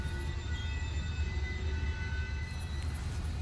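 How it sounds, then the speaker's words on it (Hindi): The 14720 Amritsar–Bikaner Weekly Express pulls into Abohar Junction with a steady, loud rumble of rolling carriages and faint high tonal whines running throughout, with no talking. "अभोर जंक्शन, यहाँ पर भी ट्रेन का अराइवल लगभग ऑन टाइम पर हो रहा है।"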